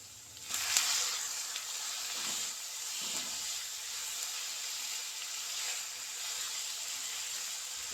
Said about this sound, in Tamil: அதை விட தக்காளி ஆட் பண்ணி வதக்குவோம்